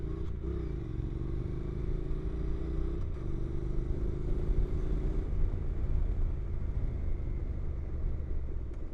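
A Honda NC700X motorcycle engine drones steadily while riding along in second gear at low revs, a constant low rumble mixed with wind and road noise, with no voices.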